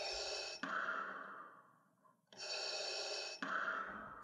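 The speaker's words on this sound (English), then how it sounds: "That's Kermit breathing." Kermit the Frog breathing: two long, loud, raspy breaths, each a hissing inhale-exhale with a short gasp, separated by a near-silent pause.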